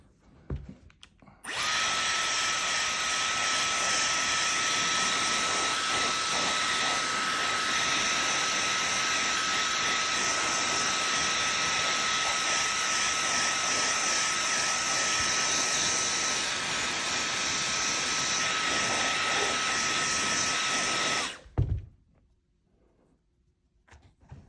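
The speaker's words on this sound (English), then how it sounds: "So I'm just gonna hit them with the hairdryer." A hair dryer blows steadily on an iPhone 12 Pro Max skin being installed, a loud continuous whir with a high whine that starts abruptly, holds for about twenty seconds, then cuts off.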